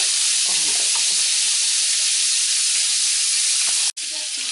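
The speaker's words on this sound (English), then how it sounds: "So I put some salt in my pot and it's sizzling." A steady, loud sizzle of salt heating in a hot pot, a continuous hiss up close that cuts out briefly near the end.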